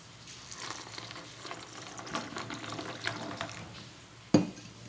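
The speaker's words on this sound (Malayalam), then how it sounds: "കുറച്ച് വെള്ളം ഒഴിക്കാം." Water is poured into a bowl of soya chunks set aside to soak, a soft, steady running trickle, ending with a sharp knock.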